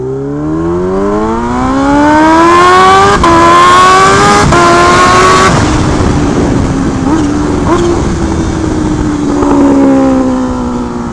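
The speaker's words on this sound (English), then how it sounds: "The bike rolls so much better now." A Kawasaki Ninja H2 motorcycle is ridden after repairs, its engine loud and close, climbing through repeated rising revs with gear shifts before settling into a steady cruise with wind noise.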